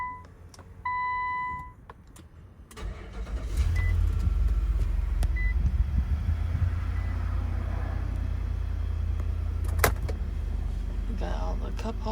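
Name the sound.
2021 Infiniti QX80 engine started and idling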